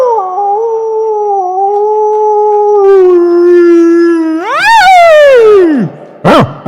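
A human voice imitates a dog's drawn-out howl at night, holding a steady wavering tone before rising into a sharp yelp and breaking off, followed by a brief cry.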